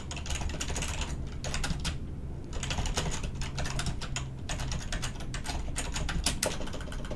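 Someone types steadily on a computer keyboard, a close, continuous clatter of keystrokes in uneven bursts with short pauses, and no voices.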